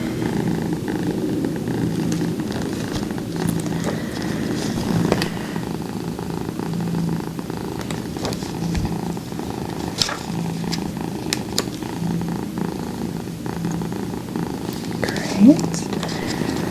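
A cat purrs steadily and softly close by, a continuous low rumble running under an ASMR makeup session, with faint brushing and small handling clicks scattered over it.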